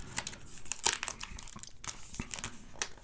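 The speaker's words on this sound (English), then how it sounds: "And peel here, as the instructions say to peel right here." Seal being peeled off the box of a blue Samsung Galaxy Z Flip5 during unboxing, giving close crinkling, tearing plastic sounds in several short bursts, with no talking.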